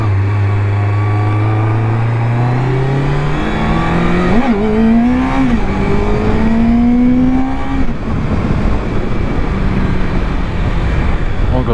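A 2005 Triumph Daytona 650 motorcycle with original tires on Gold Camp Road on the west side of Colorado Springs revs up through the gears, its engine note climbing and shifting, loud and close with steady wind noise.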